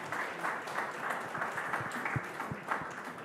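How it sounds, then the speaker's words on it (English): Applause from an awards-gala audience for the team of Bukhara, the Indian restaurant, a steady dense wash of many hands clapping at a moderate distance, with faint voices mixed in. "a huge round of applause for the team of Bukhara"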